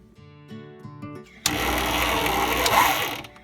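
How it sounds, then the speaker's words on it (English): Electric mixer labouring through very thick dough for vintage Swiss cookies, a dense grinding whir that kicks in abruptly after some clinking, loud and close for a few seconds before easing. "my mixer is having a tough time of that"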